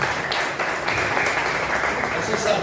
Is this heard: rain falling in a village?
no